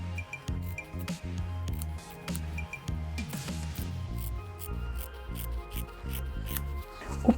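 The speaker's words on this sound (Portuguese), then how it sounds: "Lembre-se de utilizar agora a sua tesoura de tecido." Fabric scissors cut through fabric in a sewing workroom, making a series of close, crisp snips and rustling slides in an irregular rhythm that is heard alone.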